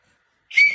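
A single short, sharp final whistle is blown after half a second of silence, sounding bright and fairly loud on its own.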